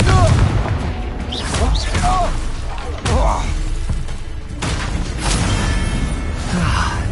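Confringo explosive spell cast in Hogwarts Legacy, with whooshing bursts and a sharp blast near the middle amid dense combat noise, while a voice talks over parts of it.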